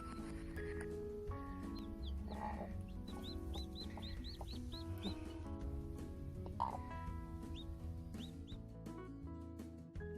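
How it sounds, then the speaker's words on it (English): Hens cluck and chirp repeatedly, with short rising calls in quick bursts amid a busy farmyard background, fairly close; a mother hen tending her chicks. "So this is my Stormy chicken"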